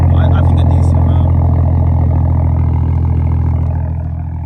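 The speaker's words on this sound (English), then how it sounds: "Once it stops idling high, it does quiet down some." A BMW 435i engine idles high with a loud, steady, close drone that eases slightly in level toward the end.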